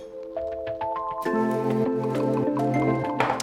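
Espresso and syrup pour into a cocktail shaker, close and clear, with a rising, ringing trickle that changes pitch as the vessel fills.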